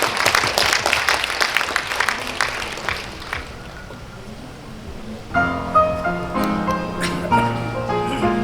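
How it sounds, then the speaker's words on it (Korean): Audience applause welcoming the performers at a Korean literary award ceremony, a dense clapping wash for about four seconds that fades as instrumental music begins. "큰 박수로 맞이해 주시면 고맙겠습니다"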